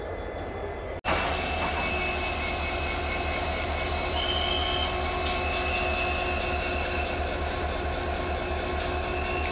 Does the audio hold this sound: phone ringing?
no